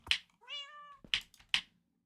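A cat meows three times up close near a kitchen, with sharp short calls on either side of one longer drawn-out tonal meow, then quiet.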